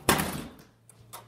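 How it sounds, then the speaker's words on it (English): A back door opens with a sharp bang and a thud, followed by a few softer knocks and clicks as it swings shut, heard close and alone over a faint low hum. "come on out our back door"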